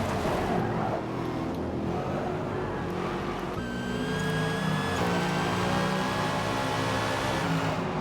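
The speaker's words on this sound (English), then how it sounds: "Go on bonnet view here on the Mustang as he tries to chase down this Supra." Race cars roar in the Forza Motorsport video game, a Mustang chasing a Supra at Bathurst in a Gen 3 Supercars round; a steady, loud engine drone runs throughout, rising in pitch partway through as one car accelerates hard.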